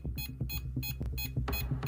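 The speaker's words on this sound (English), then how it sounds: "I need to know why this thing is beeping when it's next to the box." Electronic beeping from a device sitting beside a wax-sealed box, a series of short repeated bright tones over a low background hum, moderately quiet and without speech.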